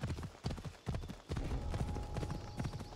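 Horse hooves clip-clop in steady galloping beats in Assassin's Creed Odyssey, loud and close, running across the whole stretch with some game ambience beneath.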